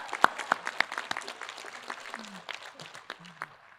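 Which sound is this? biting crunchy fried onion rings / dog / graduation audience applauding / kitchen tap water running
graduation audience applauding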